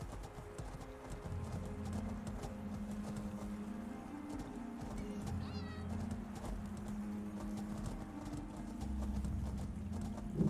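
In the Elder Scrolls game a cat meows amid clip-clopping hooves and a low tonal backdrop, the meows short and moderately near against a steady layer of in-game noise.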